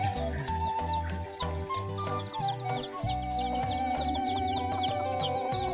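Chickens cluck in a Javanese village, several birds calling close by in short irregular bursts over a busy background of other sounds and faint murmur.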